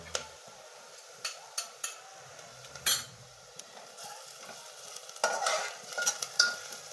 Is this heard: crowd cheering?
no